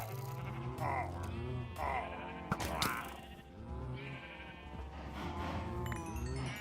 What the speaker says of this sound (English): I think I'm killing sheep.